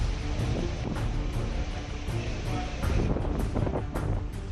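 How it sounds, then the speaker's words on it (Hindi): Strong winds before Cyclone Amphan in Bhadrak, Odisha, roar steadily into the microphone as a loud, unbroken rush with gusty surges. Rain is not clearly picked out under the wind. "ओडिशा के भद्रक में भी तूफान से पहले तेज हवाओं के साथ झमाझम बारिश हो रही है।"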